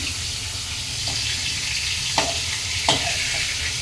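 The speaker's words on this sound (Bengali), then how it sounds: "আলুটা ভাজছি মাংসের আলু" Potatoes for a meat curry fry in hot oil with a loud, even sizzle, and a couple of sharp stirring clacks come from the pan.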